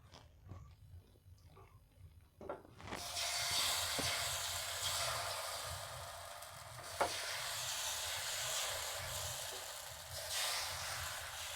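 Chit ruti flatbread frying in oil, giving a loud steady sizzle and hiss that begins after a quieter start, with a single sharp tap partway through.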